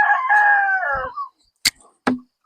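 A rooster in a backyard flock of Basilan native chickens crows once in a long, wavering call, followed by two short, sharp clucks, close and clear with no talk.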